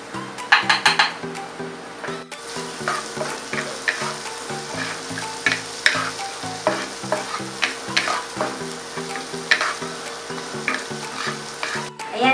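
Garlic and onion sautéing in a pan for creamy pesto pasta, a loud continuous sizzle with frequent spatula scrapes and metallic clinks against the pan.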